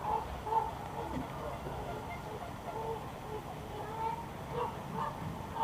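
Roughly two dozen swans honk and call at night near Stratford-upon-Avon, with repeated, overlapping cries drifting in from a distance over a steady, faint background hum.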